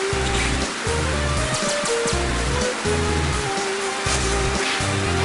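Rain in the Rainy Turtloid stage of Mega Man X6, a constant loud hiss of downpour with looping game music and low rhythmic tones underneath, steady from start to finish.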